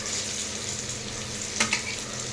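Eggplant slices fry in a hot pan with a steady, close sizzle throughout, and a couple of brief louder crackles or utensil clicks near the end.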